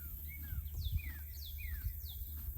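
Repeated thin chirping bird calls, sliding whistles at a moderate distance over a low steady rumble and occasional thumps.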